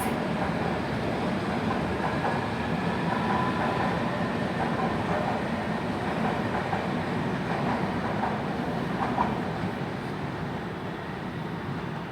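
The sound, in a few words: London Underground Circle line train departing Paddington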